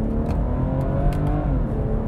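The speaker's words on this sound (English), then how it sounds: "Let's get it over into manual and let's squeeze that B58 goodness out of it." A BMW 440i Gran Coupe's B58 engine revs in second gear in manual mode, a steady, loud, close drone from inside the car for about two seconds with no talk.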